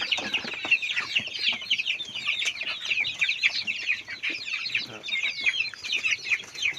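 Many chickens kept in a roomy pen give a continuous chorus of overlapping clucks and chirps, moderately loud and close, with no pauses.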